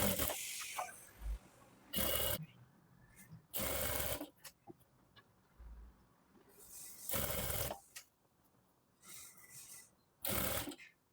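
A sewing machine stitches around the folded hem of a salwar in short repeated bursts, each run a second or so long, separated by quiet pauses and faint handling of the cloth.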